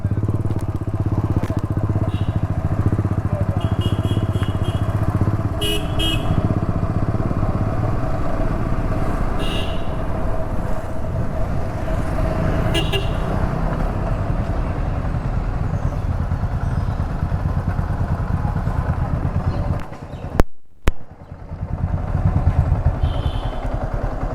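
A Yamaha R15 V4 motorcycle exhaust drones loudly and continuously while riding toward Trimbakeshwar on a mountain road, with wind rumble and brief clattering bursts, ending in a short dropout and quieter engine noise.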